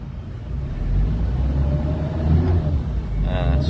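A 1994 Suzuki Katana GX SJ410 engine rising from idle as the throttle is blipped, a steady low rumble that swells and holds, close to the car.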